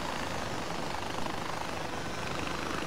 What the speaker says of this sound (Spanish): Hombre, es un helicóptero un poco mierda